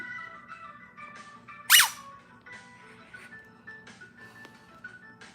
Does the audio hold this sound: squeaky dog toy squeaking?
yes